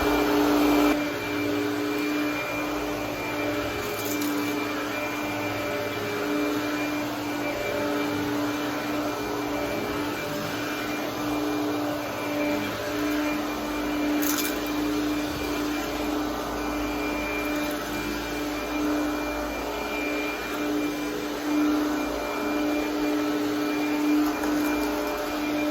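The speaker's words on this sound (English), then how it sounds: "I pulled the old Hoover out of the closet" An old Hoover vacuum cleaner runs steadily while cleaning a rug, a continuous close motor drone with a strong tonal whine that holds at even loudness throughout, with no talk over it.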